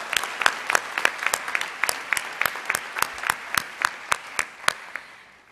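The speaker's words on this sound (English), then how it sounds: "Let's give them a big round of applause." Sustained applause from a crowd at a high school awards assembly, with distinct sharp claps standing out in a steady rhythm over a wash of clapping, fairly close and moderately loud.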